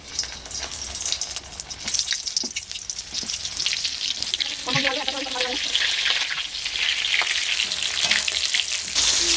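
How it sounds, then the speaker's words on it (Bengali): Stuffed pointed gourds (potol) fry in hot oil in a pan, a loud continuous sizzle up close, with brief clinks and a faint voice partway through. "এবার তেলে একে একে ভেজে নেবো। তার জন্য কড়াই তেল দিয়েছি, গরম হয়ে গেছে, এবার ভেজে নেবো।"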